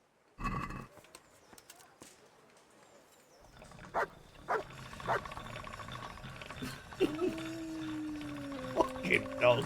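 A dog barks in the video game Kingdom Come Deliverance: a few short barks spread through the stretch, mixed with horse hooves and game ambience, at moderate distance.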